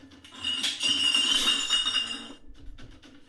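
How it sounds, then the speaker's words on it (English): Glass or dishes clink and clank in a dense, bright rattling burst lasting a couple of seconds in a dark house at night, then the noise trails off into a few scattered faint knocks. "Terrifying clinking and clanking burst through the darkness."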